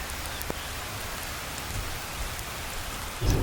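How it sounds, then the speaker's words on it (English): Rain falls as a steady, dense hiss of drops hitting the ground outdoors, continuous throughout, with a low rumble swelling at the very end. "it's starting to rain right now, so we should go"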